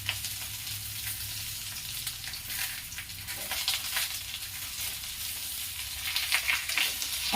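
Eggplant pieces with salt sizzle steadily in a hot pan for an eggplant and potato curry. The frying hiss is soft and even, with faint stirring crackles and no voices.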